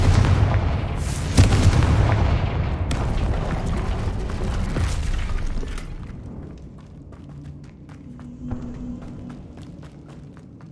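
Confringo blasting spell explosions in Hogwarts Legacy, heavy booming blasts and rumbling impacts that are loud at first and then fade into quieter game sounds, with scattered sharp thuds and light clicks.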